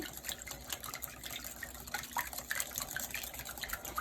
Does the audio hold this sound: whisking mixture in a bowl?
yes